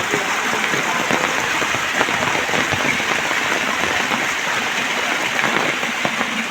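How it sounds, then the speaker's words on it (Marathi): Heavy monsoon rain pours down in a loud, unbroken hiss with constant dense patter on surfaces, steady from start to finish. "पाऊस परत सरीवर जोरात आला"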